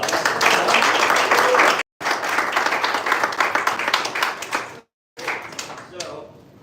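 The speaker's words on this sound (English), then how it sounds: "let's give a round of applause" A live audience at a 1 Million Cups Chicago event claps in sustained, dense applause, broken by two brief silent gaps before the clapping thins out toward the end.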